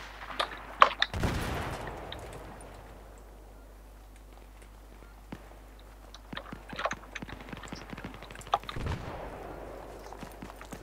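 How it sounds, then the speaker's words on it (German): Mortar fire in the video game Battlefield 3: two heavy booming impacts about eight seconds apart, with scattered sharp gunshots and clicks over a low steady rumble between them. "Da mörsert einer, habe ich so das Gefühl."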